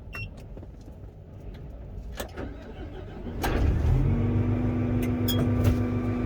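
A Fendt 1167 tractor engine cranks and fires partway through, then settles into a steady, loud high idle near 1,000 RPM with a sustained low drone, preceded by faint rustling and clicks.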